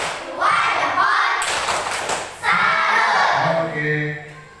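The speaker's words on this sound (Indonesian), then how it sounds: "Kasih dulu, kasih tepuk dulu. Tepuk salut." A school class performs the "tepuk salut" clapping chant, with bursts of rhythmic group clapping and thumps mixed with children's voices chanting along, loud and close in a classroom.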